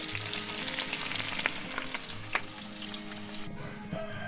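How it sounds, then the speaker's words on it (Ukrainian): Fish coated in corn flour fries in a pan over an open fire, a steady close sizzle and crackle with occasional pops, continuous and fairly quiet. "Жарить будем у борошні кукурудзяному."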